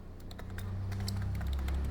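Keys on a computer keyboard clatter in quick, uneven taps during the entry of a program name in a LibreOffice Impress walkthrough, set against a steady low hum, fairly close.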